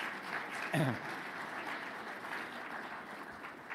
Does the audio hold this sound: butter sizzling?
no